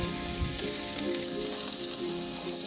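Seasoned burger patties sizzling in a hot pan, a loud, continuous frying crackle close up with no talking.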